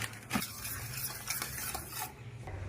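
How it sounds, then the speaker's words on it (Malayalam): Cornflour being stirred into milk in a bowl, quick rhythmic scraping and light clinks of a spoon against the sides, close and continuous for a few seconds. "ഇനി ഈ പാലിലേക്ക് 2 ടീസ്പൂണ് കോൺഫ്ലവർ പൊടി ഇട്ടിട്ട് മിക്സ് ആക്കി വെക്കാം"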